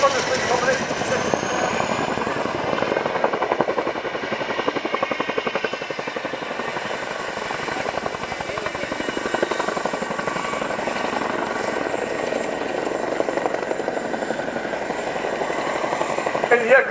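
Boeing Chinook HC4 twin-rotor helicopter of No. 18 Squadron RAF flying at the RIAT airshow at Fairford, a steady loud rotor thrum and engine whine throughout, with an announcer talking over it.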